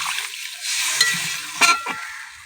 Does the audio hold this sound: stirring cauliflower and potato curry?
yes